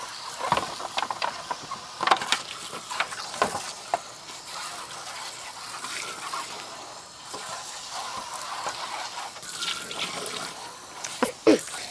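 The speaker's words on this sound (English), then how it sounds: "All right, now we'll rinse." Running water splashes over a plastic R/C car body being rinsed by hand, a steady hiss of flow broken by irregular splatters and clatters as the shell is turned under the stream, close and moderately loud.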